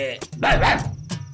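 A voice imitates a dog, giving a few short barking yelps in quick succession, close and loud.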